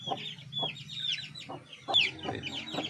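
Several Aseel hens cluck in short bursts close by, mixed with high, thin peeps from newly hatched Aseel chicks scattered throughout.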